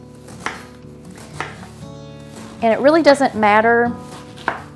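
A knife chops cabbage steadily on a board in a few sharp taps, while a person talks over it midway.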